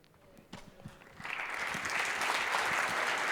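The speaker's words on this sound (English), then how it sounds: "big round of applause for Julie" Applause from the audience at a mountain biking summit talk starts as a few scattered claps, then swells into a steady round of clapping filling the room.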